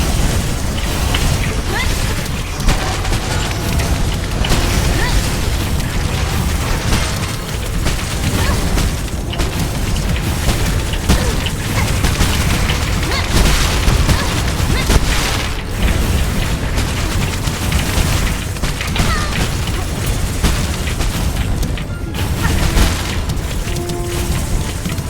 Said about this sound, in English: How many more bombs are you gonna spawn in the same spot?